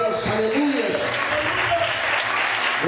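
A church congregation applauding during an evangelical service, a continuous dense wash of clapping at steady loudness, with a voice speaking and calling out over it throughout.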